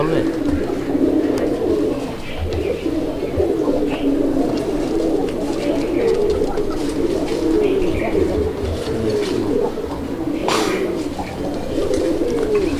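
Coloured fancy pigeons kept for sale coo in a dense, continuous, overlapping murmur close by, with occasional wing flutters and soft clicks.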